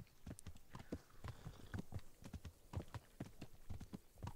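A horse's hooves clip-clop steadily along a road in Kingdom Come: Deliverance, set in 1403 Bohemia, with an even, brisk rhythm of close, clear hoofbeats and no talk.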